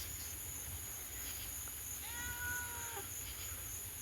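A cat gives a single faint, drawn-out meow on a rainy night, distant and brief against a steady backdrop of buzzing insects and a low rumble.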